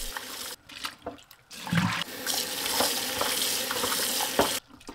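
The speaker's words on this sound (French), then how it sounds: "Puis, je les rince bien." Octopus tentacles are rinsed under running tap water, a steady rushing hiss with brief splashes and gaps where the flow stops, close by in a kitchen with no talking.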